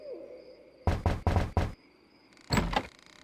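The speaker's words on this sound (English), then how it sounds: "I think I'll knock." Four quick, firm knocks rap on a door in The Secret of Monkey Island adventure game, followed about a second later by a duller thud, over a quiet ambient background.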